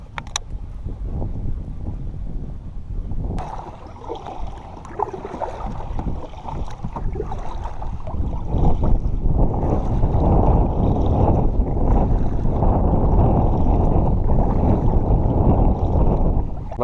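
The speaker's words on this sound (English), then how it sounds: "wind is going to be a huge issue today. It's pretty consistent." Steady wind buffeting the microphone from a boat on Lake Toho, a broad low roar that grows louder and rougher partway through and continues without a break.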